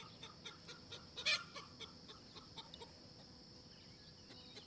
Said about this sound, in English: you all can hear my chickens in the background. I've got a noisy chicken.